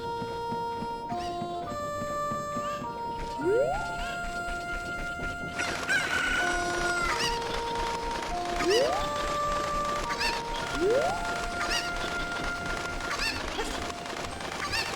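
Chickens and a rooster in the Ocarina of Time market, a video game, cluck and crow over cheerful game music, with several overlapping crows and honk-like calls standing out in a steady flock chorus.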